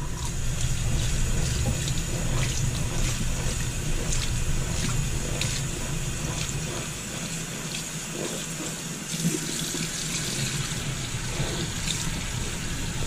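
Water runs steadily from a tap as an item is rinsed through, a continuous splashing flow that briefly softens and then surges again, heard close by.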